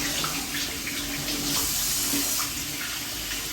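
Running tap water splashes steadily over a pineapple being rinsed, a continuous close hiss and spatter with no pauses.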